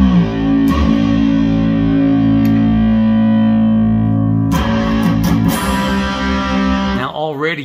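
Distorted electric guitar run through a BOSS GT-1 pitch shifter set a fifth down, sustained notes and chords ringing loudly with a brief pause mid-way, then a wobbling pitch sweep at the end as the pedal moves.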